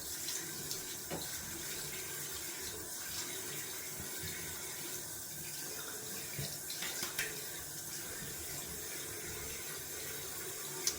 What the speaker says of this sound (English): Just gonna rinse off cold water,